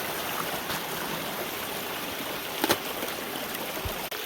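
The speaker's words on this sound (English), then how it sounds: "up at this creek here at the top we have something we call Upper Falls, which is the northern or highest most waterfall in it" A small, partly frozen creek runs in winter wilderness near a waterfall, giving a soft, steady, hissing trickle of flowing water heard up close, with a few faint knocks and no speech.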